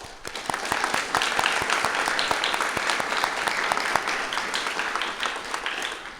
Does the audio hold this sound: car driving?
no